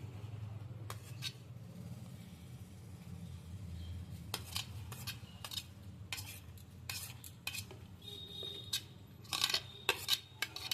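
Grated carrot, chopped chillies, curry leaves and onion being stirred together in a bowl, giving soft scraping and clinking of a spoon against the bowl, with sharper taps toward the end, close and fairly quiet.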